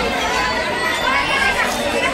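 Steady crowd chatter of many people queued and waiting at a ropeway ticket area near Raigad, a dense continuous murmur of overlapping voices close around.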